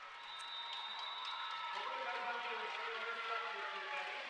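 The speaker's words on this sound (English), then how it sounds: "Good cheering noise here in the arena." Crowd cheering fills a wheelchair rugby arena during a Japan versus New Zealand match, a faint, distant, steady wash of voices with a thin high whistle-like tone early on.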